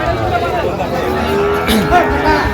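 Sahiwal bull calves and other cattle at the busy Ambari cattle market in Dinajpur, with low moos rising over a constant babble of voices and crowd noise.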